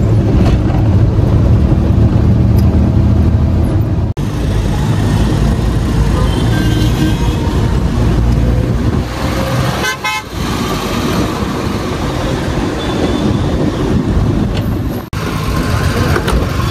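Inside a taxi moving through dense Mumbai traffic, a constant loud road rumble with car horns tooting now and then, close and far, and some background voices.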